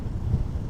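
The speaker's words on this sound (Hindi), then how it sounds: "बहुत तेज़ हवा चल रही है।" Heavy wind buffets the microphone of a moving motorcycle on a Delhi to Manali ride in a constant low roar, loud and close, with no voices.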